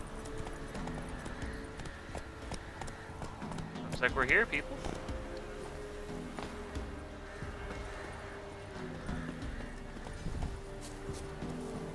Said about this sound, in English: just randomly ask me as I ride my horse by